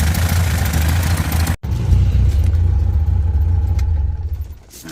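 A 1972 Toyota Corolla TE28 engine runs steadily after a carburetor and fuel pump fix, a close, loud low rumble that cuts out for a split second, then keeps idling with slight revving.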